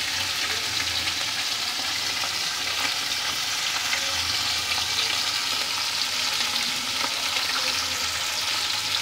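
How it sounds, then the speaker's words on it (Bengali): Small mourola fish sizzle and fry in hot oil in a pan, a loud continuous crackling hiss with occasional stirring, steady throughout without talk. "একটা সাইড ভালো করে ভাজা হয়ে গেলে তারপরে এটা উল্টাতে হবে, কারণ ছোটো মাছ তো নরম"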